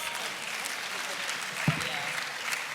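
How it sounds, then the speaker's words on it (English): An audience at an annual conference applauds a panel with a steady, dense wash of clapping that continues throughout at an even level, along with one brief thump. "Another round of applause."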